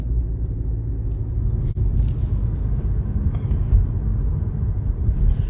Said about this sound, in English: So let's drive around a little bit more.